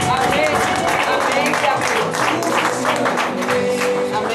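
Congregation applauding during a church service, dense steady clapping that fills the whole clip at a loud level with no gaps, mixed with crowd noise.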